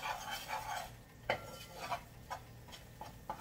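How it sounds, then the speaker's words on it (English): Spoon stirring a pot of gravy for smothered sirloin chops, soft scraping strokes in an uneven rhythm with light clinks against the pot, quiet and close. "Just stir it and stir it and stir it."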